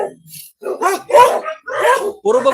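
A dog barks several times in quick succession close by, loud and sharp, with a person talking around the barks.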